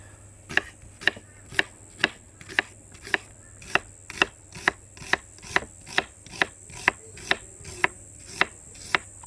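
A knife thinly slicing onions on a cutting board for caramelising: steady, evenly spaced crisp chops, about two per second, close and clear with no talking.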